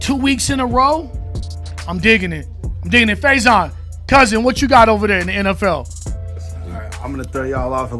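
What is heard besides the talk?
No everyday noise stands out behind the speech.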